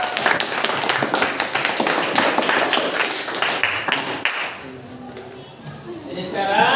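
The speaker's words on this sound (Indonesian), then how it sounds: "beri tepuk tangan untuk kita semua" Students clapping in a classroom after a poetry lesson, a brisk patter of many hands that fades out midway, followed by quieter room sound and voices.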